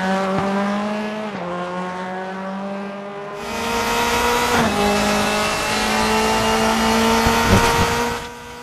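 A 2003 Mercedes W203 AMG DTM race car in the Raceroom racing game, its engine howling loud and close as it pulls through the gears, with sharp pitch drops at each shift and a steady high-revving roar.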